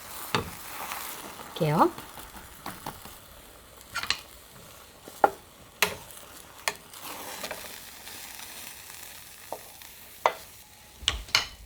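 An egg fries in a pan over medium-low heat as the pan is tilted slightly off the flame, giving a soft sizzle with scattered clicks and scrapes. A voice speaks briefly.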